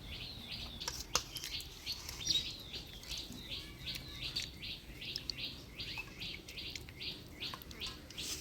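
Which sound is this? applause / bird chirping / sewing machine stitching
bird chirping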